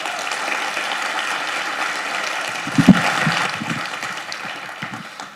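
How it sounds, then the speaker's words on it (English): Applause for President Gonzalez at an Albuquerque Public Schools State of the District event, a sustained crowd clapping that stays steady and fades slightly toward the end. "Let's give another round of applause for President Gonzalez."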